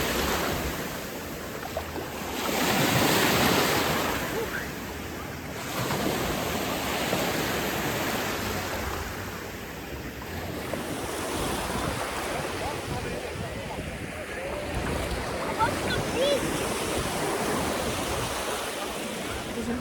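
Sea waves and wind on the beach at Whitby in North Yorkshire, a continuous rushing surf with swelling washes of breaking water and steady wind noise, loud and close, with no voices.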